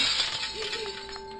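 A door is smashed in the video game Angels of Death, a brief breaking, shattering crash with glassy clinks, heard over a steady game soundtrack tone.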